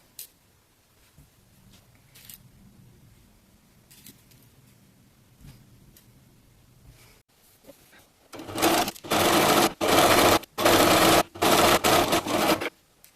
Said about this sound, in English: so that I can sew this seam together